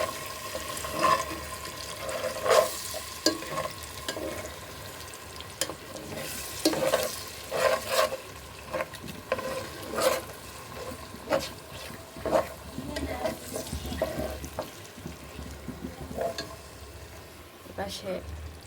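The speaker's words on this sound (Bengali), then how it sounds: "এটা আমি ভাজা ভাজা করবো।" Spices for khichuri sizzle in a pan with already-fried onions, stirred in repeated scraping strokes over a steady crackling fry, close and moderately loud.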